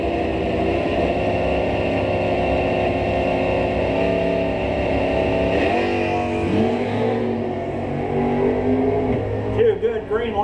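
Drag race cars, including a Plymouth Duster, roar at Twin City Raceway, a sustained loud engine drone that shifts pitch partway through, under continuous announcer commentary.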